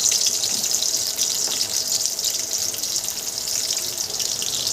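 Onions hitting hot oil in a pan for an eggplant and potato curry, giving a steady, even sizzle that runs through the whole stretch with no voices over it.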